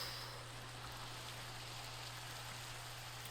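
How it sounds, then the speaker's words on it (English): Steady hiss of rain falling in a video game, soft and even throughout, a continuous patter with no voices over it. "Oop, starting to rain."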